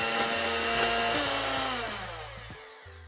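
An electric mixer whirs steadily through pumpkin pie filling with egg and vanilla, a close, continuous motor drone that dips in pitch and slows toward the end, with no voices.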